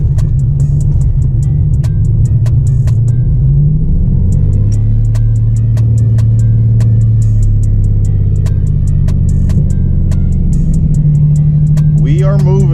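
Nissan 300ZX engine idling with a deep, loud rumble, then rising as the car is put in gear and pulls away, with repeated sharp ticking clicks over the drone and a voice near the end.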